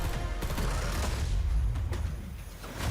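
Dense, rapid gunfire from an MP5 submachine gun in the Black Ops 6 video game, loud and continuous bursts with sharp mechanical clacks, no talking over it.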